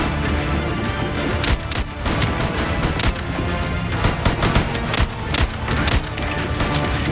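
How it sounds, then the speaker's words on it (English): Rapid gunfire from the hip in the video game Voidtrain, dense bursts of shots rattling almost continuously and loudly with brief gaps between volleys. "should we just try and shoot him from the hip?"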